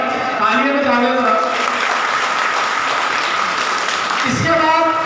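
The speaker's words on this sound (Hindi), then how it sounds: "तालियां बजा दें।" Sustained applause from an audience at an Independence Day (14 August) speech gathering, steady and loud across the whole stretch with a brief voice-like tone near the end.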